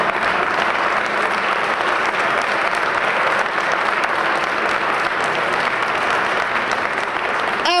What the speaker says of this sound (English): Y'all better clap for this